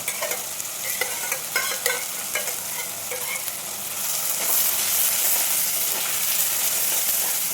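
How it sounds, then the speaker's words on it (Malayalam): Tomato and ground onion sautéing in a pan for a fish curry, with spatula scrapes and clacks over a sizzle that swells louder and steadier in the second half, without voices. "നല്ലതുപോലെ ഒന്ന് വഴക്കാം. തക്കാളി ഒന്ന് വഴണ്ട് വരക്കാം."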